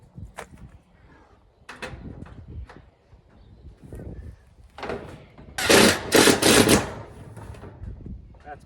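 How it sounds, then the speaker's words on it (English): Screws driven into a wooden chook pen frame, a cordless drill whirring in short bursts followed by a louder sustained run near the end, with scattered knocks and handling sounds throughout. "get some screws in it"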